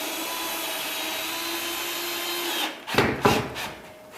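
Power drill sinking a screw through sheetrock into a stud on a water-damaged ceiling patch; a steady loud motor whir runs for over two seconds, then a few short bursts as the screw seats.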